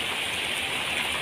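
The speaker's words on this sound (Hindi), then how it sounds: "झमाझम बारिश हो रही है" Heavy rain pours steadily outdoors, a dense, even wash of hissing patter with no pauses, moderately loud and close.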